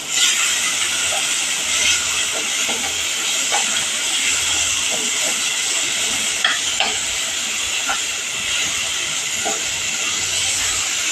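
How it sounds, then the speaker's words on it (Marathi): Finely chopped tomato sautéing in a pan, a continuous close hiss and sizzle with scattered crackles and occasional stirring scrapes throughout. "आता हे परत चांगलं परतून घेणार आहे"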